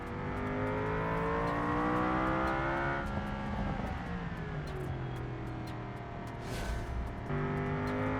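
GT3 race car engine on a flying lap in a racing video game, a loud rising and falling whine with strong harmonics, revving up through gears with brief shifts and a high whir near the end.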